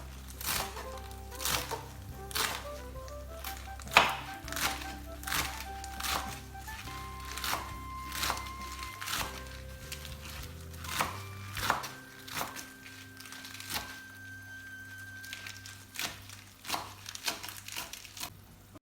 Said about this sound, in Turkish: pazlarımızı da doğrayalım.